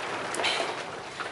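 Steady rain falling during a storm, a continuous soft hiss with faint patters, heard alone with no voices.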